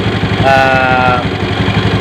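Honda Beat FI scooter engine running, a close, loud steady idle with a rhythmic low throb and a brief higher whine partway through.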